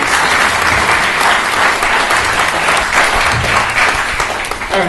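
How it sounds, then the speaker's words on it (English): An audience at a talk about Don Johnson gives a big round of applause for the helpers, loud, dense and steady clapping from a close crowd throughout. "So a big round of applause for them."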